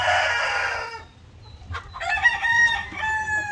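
Chickens being fed coconut pulp cluck loudly up close, then a rooster crows partway through, with further clucking and calls following in quick, overlapping bursts.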